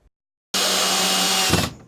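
A power tool at a house being rebuilt starts abruptly after a short silence and runs as a loud, steady high whine for about a second before winding down and cutting off.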